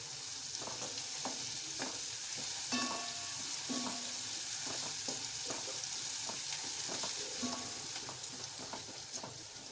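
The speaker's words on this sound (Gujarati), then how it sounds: "હવે એને આપણે 5 મિનિટ ધીમા ગેસે" Khichdi sautéing in a pan on a low gas flame, a soft steady sizzle with a faint spoon stirring and tapping at irregular intervals.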